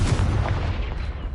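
Confringo fire spell exploding in Hogwarts Legacy, a loud continuous booming burst with heavy low rumble lasting just over a second, no talk.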